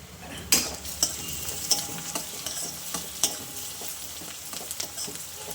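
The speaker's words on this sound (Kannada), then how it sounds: "ಇಷ್ಟು ಫ್ರೈ ಆಗಿದೆ ಟ್ರಾನ್ಸ್ಪರೆಂಟ್ ಆಗಿದೆ ಈರುಳ್ಳಿ" Onions frying until transparent for a chicken gravy, a close steady sizzle punctuated by a few sharp clinks and scrapes of a utensil against the pan.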